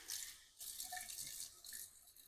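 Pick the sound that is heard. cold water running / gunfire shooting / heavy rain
cold water running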